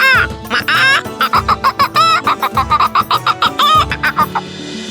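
Cartoon chicken clucking in an animated Bengali magic story, a rapid run of loud, close, bright clucks and squawks repeating in quick rhythmic bursts over light background music, with no talking.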